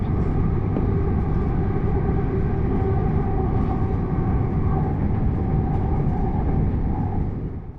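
Southern passenger train running toward Arundel, a steady close interior rumble of wheels and motors with sustained tonal hum, continuous throughout and easing slightly at the end, no talk.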